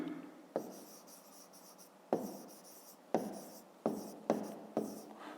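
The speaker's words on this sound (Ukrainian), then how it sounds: "Пишемо відповідь" A pen scratches across paper as a math answer is written down, a series of short scribbling strokes separated by brief pauses, close and quiet with no talking.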